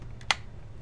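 A single sharp keystroke on a computer keyboard, close and crisp, with a fainter tap just before and after against quiet room hiss.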